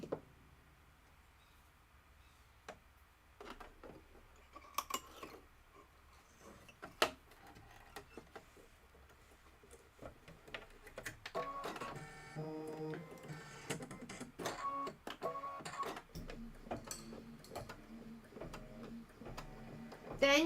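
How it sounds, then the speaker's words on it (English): An embroidery machine stitches a white satin outline of a measuring cup, its ticking needle strikes building from sparse taps into a steady, quick mechanical rhythm, fairly quiet and without talk. "we are going to stitch the measuring cup satin outline, and we're going to do that in white"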